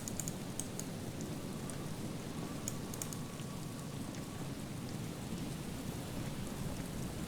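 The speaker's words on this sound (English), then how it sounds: "What a rain that is. It's pouring down." Heavy, steady rain in the video game Disco Elysium pours down continuously with a dense hiss, a constant downpour throughout with no voices.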